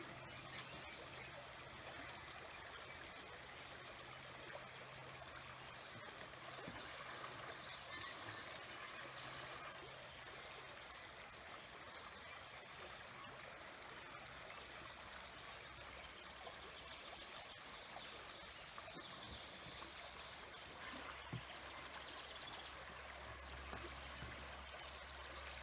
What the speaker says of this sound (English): Take a look at the creek.